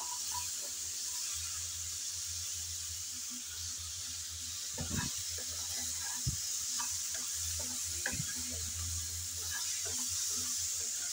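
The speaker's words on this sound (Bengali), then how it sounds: "অনবরত ঢাকনা ছাড়াই এভাবে নেড়েচেড়ে ভেজে নিতে হবে" Okra coated in Maggi masala sizzles softly in an uncovered pan, a steady low hiss broken by occasional scrapes and taps as it is stirred.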